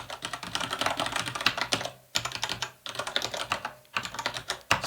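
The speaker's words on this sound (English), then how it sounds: "So let's type something." Rapid typing on a computer keyboard, a dense stream of close, crisp key clicks in bursts with short pauses between them, heard alone without talk.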